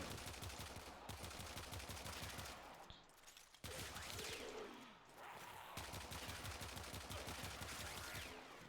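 Warframe weapons fired in the Simulacrum testing range: rapid, evenly paced automatic fire in long bursts with two short gaps, loud and close throughout.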